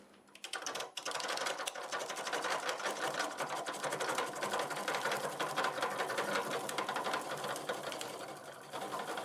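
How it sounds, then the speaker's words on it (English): An electric drill bores into a solid piece of river birch in a wood turning shop, a close, continuous buzzing grind with a fast chattering rattle that starts abruptly after a brief pause and holds steady for several seconds. "I'm going to take a drill. I'm going to drill this out, find out how deep I can go."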